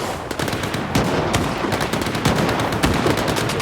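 Rapid, loud bursts of automatic gunfire in Stalker 2 crack out in close succession over an outdoor game soundscape, sustained and dense throughout.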